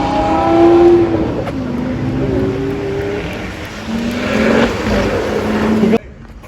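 A Lexus LFA sports car engine sounds loud and close at a car show, revving and falling in smooth, rising and dropping tones, with people talking over it before it cuts off near the end.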